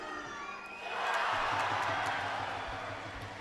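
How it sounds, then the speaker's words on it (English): Crowd noise swells at a men's final at the Euros 2022 as spectators react unhappily to a referee's blocking call, a loud sustained roar with scattered shouts and whistles rising after the first second and holding steady. "The crowd not happy with that decision"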